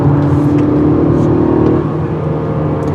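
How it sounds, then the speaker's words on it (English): A 2019 Acura RDX AWD SUV engine drones steadily while driving, a loud continuous hum with a sustained whine that fades slightly partway through and carries on alone. "The engine loves to whine and the vehicle likes to take corners."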